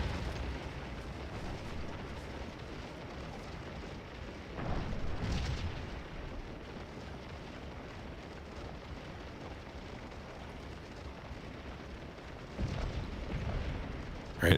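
Distant artillery cannon fire from a Civil War battle in Scourge of War: Gettysburg, heard as low rumbling booms swelling twice over a steady battlefield din, muffled and fairly faint.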